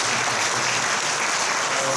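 A congregation at a Korean church event applauds the pastor with steady, dense clapping, loud and continuous throughout.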